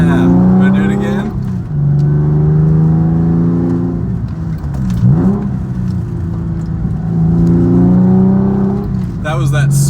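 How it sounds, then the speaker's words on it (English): Engine of a Porsche 996 Carrera 4 with a rebuilt second gear, heard from inside the car as it revs, drops in pitch through a 3-2 downshift and climbs again, loud and close with someone talking briefly. "That was that sweet 3-2 downshift sound."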